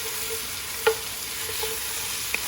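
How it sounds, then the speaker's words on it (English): Red onions frying in a pan with browned meat while being stirred. A constant close sizzle hisses throughout, broken by a couple of sharp utensil clinks against the pan. "now I'm going to add the red onions to the pan. And I'm going to stir these"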